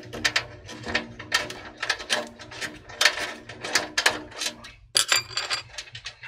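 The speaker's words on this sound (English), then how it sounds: "I'll be using a flathead screwdriver." A flathead screwdriver turns screws out of an HP desktop computer case, giving a run of quick close metallic ratcheting clicks in uneven bursts, with a sharper knock near the end.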